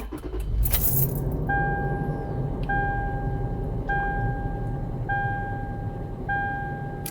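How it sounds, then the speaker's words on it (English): Keys jingle briefly while a Toyota 4Runner is started, followed by a series of evenly spaced electronic chimes ringing over a low engine hum. "I have my keys here."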